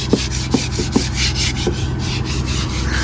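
Rhythmic rubbing and scrubbing strokes on the wooden surface of a fishing boat at Porbandar, a few sharper knocks early on, steady and close over a low constant hum.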